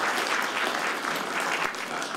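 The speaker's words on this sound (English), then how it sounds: "So I want a round of applause for Gail" A round of applause for Gail at a lecture event on the gap between law and practice: an audience claps steadily and fairly loudly, a continuous wash of many hands with no voices over it.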